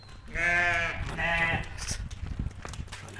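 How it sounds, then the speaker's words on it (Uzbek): Sheep bleating at a farm where ewes are for sale: two long, loud, wavering bleats close by, then quieter rustling and animal movement. "Mana akalar qo'ylarimiz."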